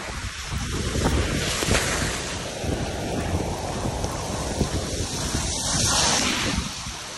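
Heavy rain pours down in a dense, steady roar with gusts of wind, close and loud throughout.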